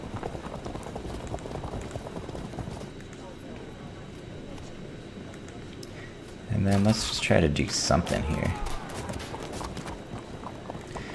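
Light javelin cavalry hooves clip-clop in the Field of Glory II strategy game, a steady rapid patter that swells into a louder burst of galloping midway, while someone talks over it.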